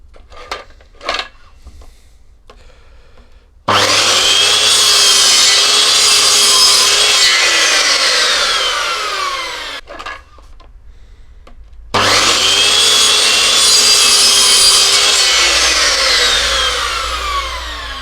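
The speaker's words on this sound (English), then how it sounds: "I've made a mark where I need to make my cuts and I'm going to slice them off so they're nice and square" A chop saw squares off the ends of wooden pieces for a custom office desk in two loud cuts. Each spins up with a high whine, bites through the timber and winds down, separated by a short pause.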